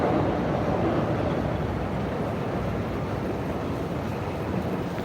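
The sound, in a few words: Shinkansen bullet train passing by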